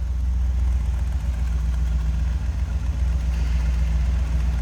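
A 1961 Ford Thunderbird two-door hardtop idles, heard from behind the car: a steady, deep, even rumble with no revving.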